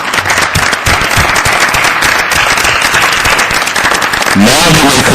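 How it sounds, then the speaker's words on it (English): A standing audience at a school district board meeting breaks into loud, dense applause honoring community service, with voices mixed into the clapping throughout. "we can give you a big round of applause for your service to this community"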